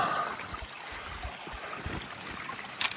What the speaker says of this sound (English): Of course, the trail is running with water.